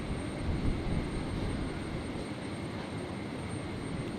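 A Qantas airliner lining up on runway 01 right at Brisbane on a stormy night hums with a low, faint, steady engine drone and a thin high whine, brief and unbroken, no voices.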